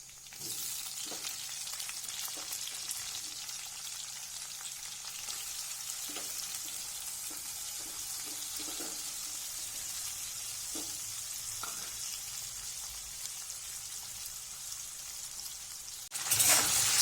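Diced potato sautéing in a pan of hot cumin, chili, salt and turmeric tempering, a steady close sizzle with occasional stirring clicks, then a sharper burst of spitting near the end.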